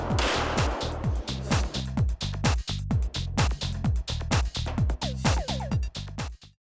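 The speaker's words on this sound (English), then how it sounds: "This is a Glock 17 and 9mm." Shots from a Glock 17 9mm pistol at an indoor gun range ring out in a quick string of about twenty sharp, loud cracks, each with a booming echo, evenly spaced and close by.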